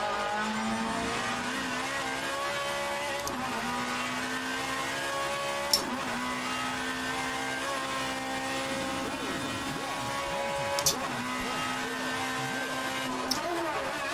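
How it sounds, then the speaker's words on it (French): A race car engine in a driving video game holds a steady high-pitched drone near its rev limit, over-revving throughout, with a few brief clicks on top. "Oh, le sur-régime"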